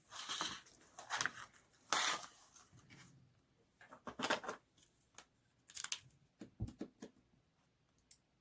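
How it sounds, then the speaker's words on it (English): Scissors trim the fabric edges of a face mask with a filter pocket, giving a series of separate crisp snips and rustles, close and fairly quiet, with short pauses between cuts and no talking. "So we're just gonna cut off those edges."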